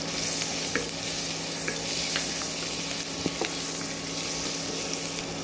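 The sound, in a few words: chopped garlic frying and being stirred in a pan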